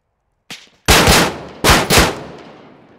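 Gunfire in the military shooter Arma 3: one lighter crack followed by two heavy, close blasts, each trailing into a long rumbling echo, with no voices.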